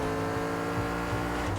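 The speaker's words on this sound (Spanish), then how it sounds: "A ver cómo va este coche." A car engine in a video game drones and revs continuously at close range, with a dense, steady motor sound and slight rises in pitch throughout.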